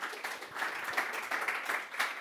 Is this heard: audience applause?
yes